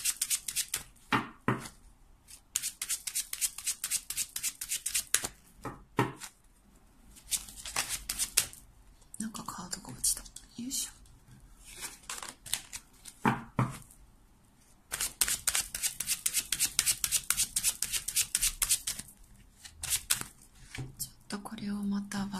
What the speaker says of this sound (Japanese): ちょっとしっかりシャッフルしていきます。